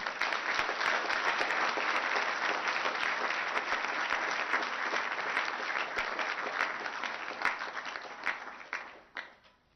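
A big ballroom audience applauds Presidents Uhuru Kenyatta and Paul Kagame at the East Africa Business Summit 2014, sustained dense clapping that thins and fades toward the end.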